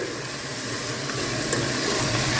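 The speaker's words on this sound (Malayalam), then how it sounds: "ഇതാ ഒരു 3/4 ടേബിൾ സ്പൂൺ മഞ്ഞൾപ്പൊടി അതിട്ടിട്ട് ഒന്ന് മിക്സ് ആക്കി കൊടുക്കുന്നുണ്ട്." Turmeric powder being stirred into frying onions for a homestyle Kerala beef curry, a steady loud sizzle with faint scraping of the spoon, close and without talk.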